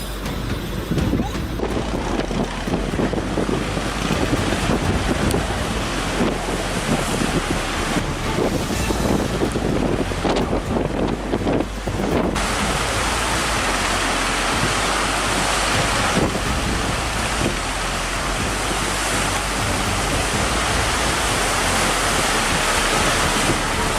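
Ship caught in a major storm at sea, with loud, constant wind roaring over the microphone and big ocean waves crashing and surging throughout, dense and unbroken noise with no clear pauses.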